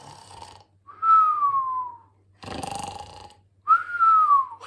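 A voice imitates a sleeping cat snoring in a zodiac story, with two long whistling exhales separated by a breathy rasping inhale, close and alone.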